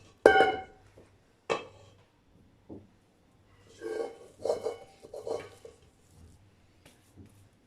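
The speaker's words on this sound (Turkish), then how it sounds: "Yağladığım tepsimin içine hamurumu döküyorum." A few sharp metal clanks of a greased baking tray, then soft wet thick plops and scraping as dough slides out, close and quiet between the sounds.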